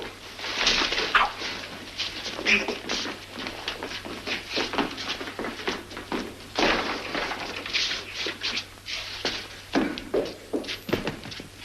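A dog whimpers and barks in a 1940s film scene, with short broadband yelps and thumps recurring steadily and fairly close throughout.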